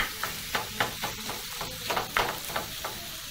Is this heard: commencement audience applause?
no